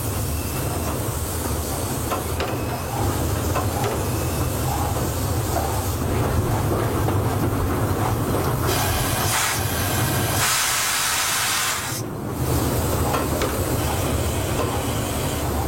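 A 231 K8 Pacific steam locomotive hisses steam loudly and steadily at close range, with a broad continuous roar that briefly dips near the end before resuming.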